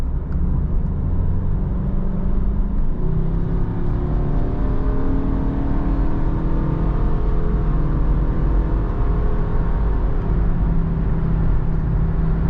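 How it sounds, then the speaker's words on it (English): Engine drone and wind rush inside a 2013 Subaru Outback 2.5i at highway speed, a steady, loud, close hum with a gently shifting engine tone throughout, no talking. "You hear more engine and more wind noise than some other cars."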